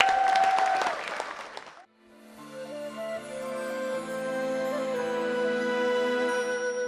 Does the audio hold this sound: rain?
no